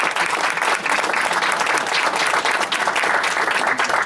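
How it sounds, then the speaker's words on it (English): Loud, dense round of applause for sponsors from banquet guests at the New England HIMSS 2014 holiday social and awards banquet, steady clapping filling the whole stretch. "I'd love to have a round of applause for all of our sponsors"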